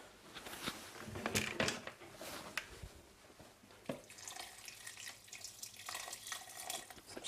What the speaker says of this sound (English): you might want to add some more water